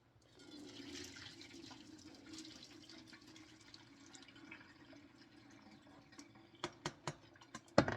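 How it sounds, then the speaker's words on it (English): Water from a bowl of cooked macaroni pours through a metal colander, a soft sustained splashing and trickling that fades to scattered drips and a few sharp clinks at the end; faint and close. "The noodles remain inside the colander. The water falls through the holes."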